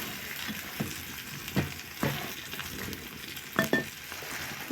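Onions fry in a pan of oil already used for frying fish, a steady close sizzle broken by several spatula scrapes and clinks against the pan.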